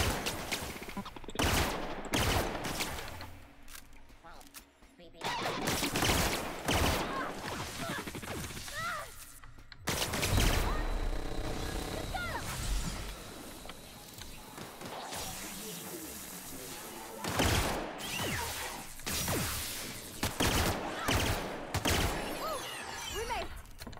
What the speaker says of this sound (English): At least this gun makes short work of these guys.